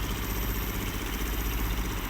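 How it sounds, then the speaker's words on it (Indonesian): A road workers' motorcycle engine idles nearby during drain and culvert repair work on a street, giving a steady low mechanical hum with no gaps. "ada motor di sana, motor para pekerja yang perbaikan got atau gorong-gorong"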